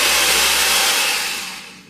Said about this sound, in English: So I'll use a breaking saw.